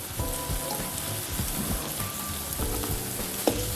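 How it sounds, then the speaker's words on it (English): Jamaican dumplings shallow- or deep-frying slowly in hot oil, giving a steady crackling sizzle with scattered pops, close and continuous with no talking. "Your dumplings should fry up slowly."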